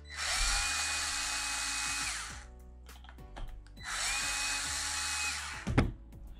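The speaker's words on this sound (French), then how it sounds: "Je vais le dévisser, hein, j'en ai des autres, je vais le remplacer par après." A power driver whirs twice in long steady bursts, each about two seconds, to remove a nut from a wheel of an HC6 US Army RC cross truck. Small clicks and handling noises come between the bursts.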